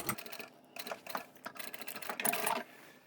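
A sewing machine stitches a large reversible tote bag in rapid, uneven bursts, running in short runs with brief pauses, close and fairly loud with no voices.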